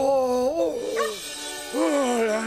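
A cartoon dog in a fire-rescue scene gives a few short, pitched yips and whimpering barks, close and clear, with bursts at the start and end separated by a quieter stretch.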